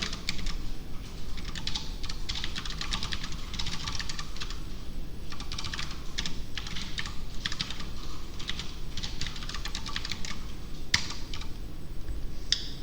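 Rapid typing on a computer keyboard while writing Java code, bursts of close clicking keystrokes in an irregular rhythm with brief pauses between runs.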